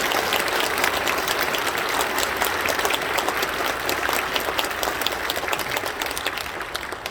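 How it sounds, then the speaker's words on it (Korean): A congregation at a Korean Easter dawn union worship service applauds: dense, loud, sustained clapping from a large crowd that carries on for several seconds without speech, easing slightly toward the end. "우리 부활하신 주님께 영광의 박수 돌리겠습니다."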